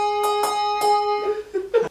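A single tuned bell, likely a piano or mallet bar being tested during a tune-up, is struck several times in quick succession with clear ringing tones, the later strikes softer and muted.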